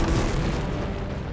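A deep rumbling boom from an asteroid impact explosion, loud and sustained with heavy low-end roar filling the whole short stretch and no voices over it.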